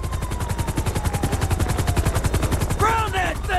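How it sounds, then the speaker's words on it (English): Helicopters in GTA V beat steadily overhead, a loud, regular rotor chop that carries through the whole stretch, with shouting voices breaking in near the end. "Why the fuck do they got all these choppers out here?"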